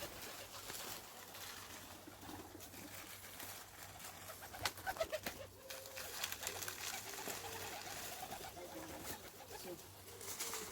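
Soft, low pigeon cooing repeats nearby in a quiet outdoor setting by garages as the pigeons are fed, with a few faint clinks and rustles around the middle.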